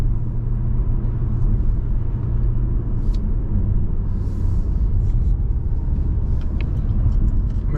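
A Porsche 911 GT3 RS engine, a dense, continuous low rumble that stays loud and steady throughout, with faint higher clicks and traffic-like noise over it and no talking.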